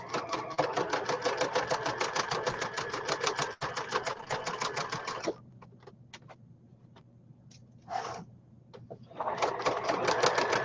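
Sewing machine stitching fabric with a fast, even needle clatter in two long runs, pausing briefly in between with faint clicks and handling noise.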